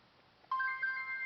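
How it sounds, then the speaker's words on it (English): A mobile phone text message alert plays indoors: a short, bright melodic chime of a few high electronic tones that starts abruptly and rings clearly on its own, with no talking over it. "So I just got a text message."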